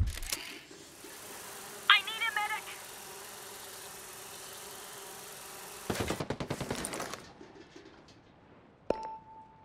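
Enemy gunfire in the Ghost Recon Breakpoint video game: a rapid automatic burst of shots over a low ambient hum, with an earlier chirping bird-like call and a sharp crack near the end.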